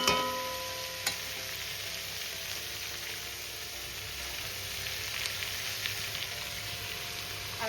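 Ivy gourd cooks in a covered pan without water, giving a soft, continuous sizzle and crackle heard close but faintly, with a couple of small clicks from the lid and no talk.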